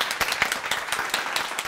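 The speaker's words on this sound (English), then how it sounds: "big round of applause for Katya." A small, socially distanced studio crew at a chef competition awards show gives a contestant a brief round of applause: quick, scattered hand claps from a few people, fairly faint and close.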